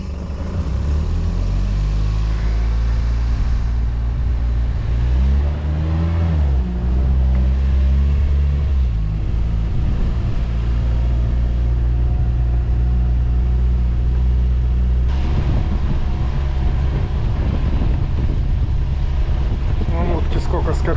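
An amphibious all-terrain swamp vehicle drives on steadily, its engine a loud continuous rumble mixed with wind noise from start to finish, with a few knocks and jolts toward the end.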